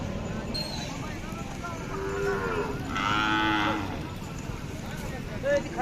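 Khillar cattle moo loudly nearby at a cattle market, several drawn-out lowing calls over a background of people talking and farmyard noise.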